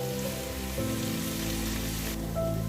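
Fried potatoes, pointed gourd and fried soya chunks are added to hot masala in a pan, which gives a steady, close sizzle and crackle like rain throughout, with no talking.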